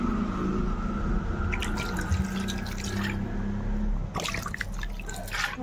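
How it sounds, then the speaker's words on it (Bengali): Water trickles and splashes into a cooking pan of cauliflower, potato and shrimp with poppy-seed, ginger, garlic and onion paste, in two short pours over a steady low kitchen hum. "এবার আমি আন্দাজ মতন জল দিয়ে দিচ্ছি।"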